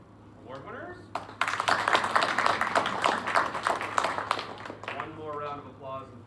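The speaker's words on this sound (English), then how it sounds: "One more round of applause and thank you to our teachers and our faculty and our staff and support staff." An audience at an 8th grade school ceremony gives a burst of clapping for award winners, rising after a second and fading near the end, with voices talking under and around it.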